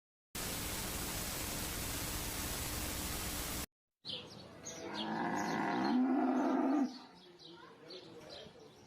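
Buffaloes low in a drawn-out moo that swells and then fades, following a burst of static-like noise and a brief gap, with faint ambient sound around it.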